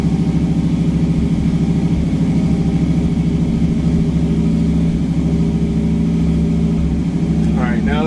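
An old truck engine idles steadily with a low rumble and even tone throughout, running close and loud without change while a person talks over it.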